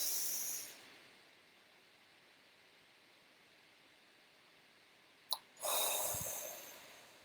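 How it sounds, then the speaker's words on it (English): A single deep breath, a long soft hiss fading out over a quiet stretch, then a sharp inhale and a loud breathy exhale close to the microphone. "let's take one last big deep breath together"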